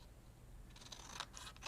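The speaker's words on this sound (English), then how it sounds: "I'm just going to cut a little bit off here" Scissors snip through decorative paper while trimming a pouch, a few faint, quick cuts clustered in the latter part over a low background hum.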